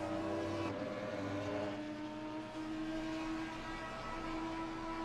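Race car engines howl around Watkins Glen as an Audi closes in, a continuous droning whine with a sharp shift in pitch early on, loud and steady throughout with no voices.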